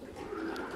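Racing pigeons arriving at a loft, heard as a brief single soft coo close by, with no voices.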